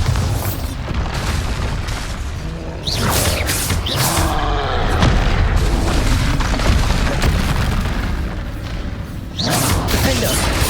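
Bombarda spell blasts from the Hogwarts Legacy video game, heavy booming explosions and thuds in a loud, continuous barrage of combat effects, with a voice calling out spell names.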